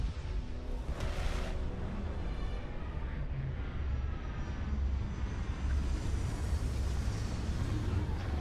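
A spaceship lands in Starfield with a steady, loud engine roar and thrust rumble, alongside a brief whoosh and faint mechanical whines.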